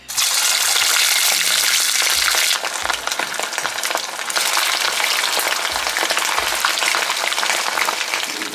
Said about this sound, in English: we are going to be frying the goat meat, and I'm using quite a bit of oil